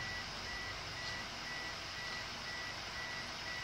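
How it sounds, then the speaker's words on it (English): A faint, regular electronic car beeping repeats at an even pace over a constant low rumble of engine and background noise, like a vehicle backing up. "Sorry about the car beeping."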